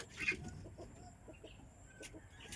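Faint clucking from chickens in a quiet outdoor setting, a few soft calls scattered over a brief moment.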